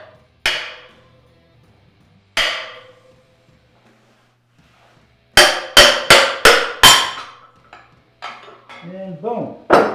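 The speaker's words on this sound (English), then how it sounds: "I'm gonna grab my ball peen hammer" A ball peen hammer strikes a motorcycle wheel bearing with sharp ringing clangs, two separate hits and then a rapid burst of five, followed by lighter clinks and scraping.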